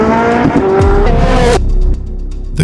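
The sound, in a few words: Koenigsegg Jesko hypercar driving, tires squealing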